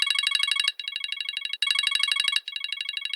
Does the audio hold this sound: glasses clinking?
no